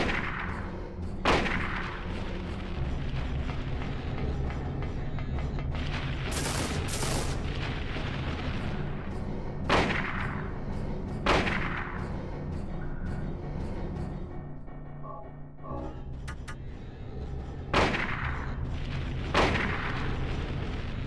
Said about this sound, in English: So do you just shoot her until she dies?